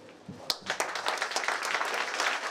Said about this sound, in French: j'aimerais applaudir tous les mamans